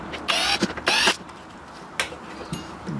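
Corroded screws are backed out of a fan mount in an EdgeSwitch network switch, giving a few short, close squeaky creaks and scraping turns separated by brief pauses.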